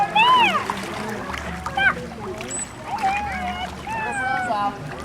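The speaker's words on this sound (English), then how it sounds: "They exit the water head first and re-enter the water head first." Bottlenose dolphins at a SeaWorld San Antonio show leaping and splashing back into the water, with whistle-like calls and crowd voices over the splashes, heard from a distance.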